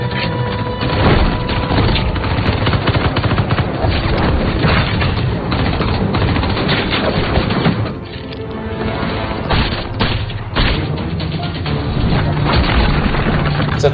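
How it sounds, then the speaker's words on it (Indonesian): Gunfire in a tense action film scene, with shots fired from a house rooftop, heard as booming thuds and crashes over a dense, loud continuous score and effects that stay steady throughout. "Namun tiba-tiba dada kirinya tertembak oleh Jo Hyun dan John dari atap rumah."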